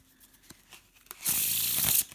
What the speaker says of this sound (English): Wow, it shuffled really nice.